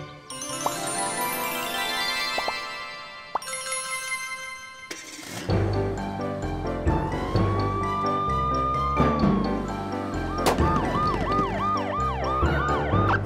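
A cartoon ambulance siren in a children's animation, rising and falling wails over a musical score, loud and continuous through the second half after a brief quieter musical opening.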